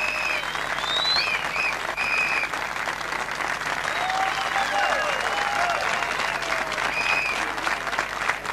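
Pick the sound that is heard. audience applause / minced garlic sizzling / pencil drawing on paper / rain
audience applause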